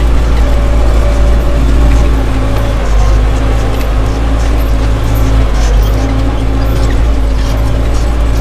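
An MTZ 892 tractor pulls a Bomet plough through heavy ploughing, its loud diesel engine droning steadily and close throughout with no pause.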